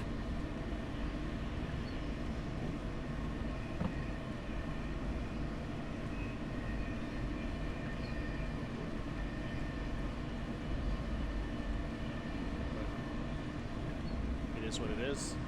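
A Class 91 electric train running down the East Coast line toward Doncaster in Train Sim World, a steady continuous rumble and hum with faint tonal whine throughout, under occasional talk.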